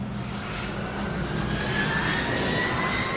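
Jet airliner engines in a simulated runway taxi: a loud, steady roaring whine with a slowly rising tone, continuous and close, with no talking.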